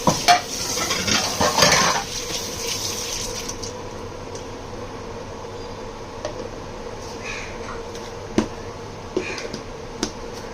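A spoon stirs tomato chutney with toor dal in a pan on a gas stove, a scraping burst at the start followed by faint simmering and occasional sharp taps of utensil against pan, with no talking.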